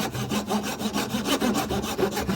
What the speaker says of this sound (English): the more my saw is following along in that groove,